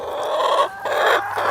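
Free-range broiler chickens cluck inside a coop on a small farm, a dense, loud chorus of overlapping clucks that swells and dips without pause and carries no speech.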